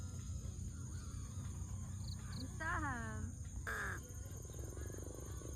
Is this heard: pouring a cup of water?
no